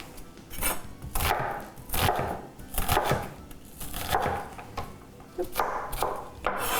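An onion being chopped with a knife on a board, a steady run of close, crisp cutting thuds in uneven bursts, with no one talking.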